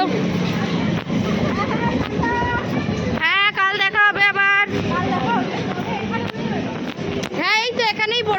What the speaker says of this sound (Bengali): দৌড়াও দৌড়াও ট্রেনও ঢুকছে